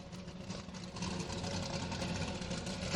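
A race car engine heard from right behind its exhaust during a 25-hour endurance race at Thunderhill, a loud, continuous, throbbing drone that swells slightly and holds steady.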